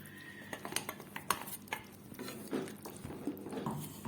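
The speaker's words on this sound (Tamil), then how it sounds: "இப்போ ஜார கழுவி கொஞ்சமாக தண்ணி ஊற்றிக்கணும்" A mixer jar being rinsed and water poured in, with irregular clinks and knocks of the jar and metal and short splashing bursts, close and fairly quiet.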